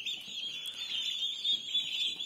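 Turkey chicks in a warm brooding room give a steady chorus of high thin peeping, continuous and fairly close with no talk over it.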